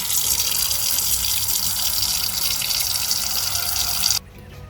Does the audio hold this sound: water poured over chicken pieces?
yes